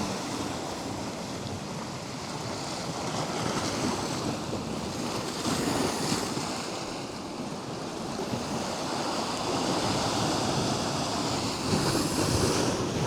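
Strong headwind at sea during a fishing trip, a loud, steady roar of wind buffeting the microphone over breaking waves and water rushing close by, continuous throughout with slight gusting swells and no talking.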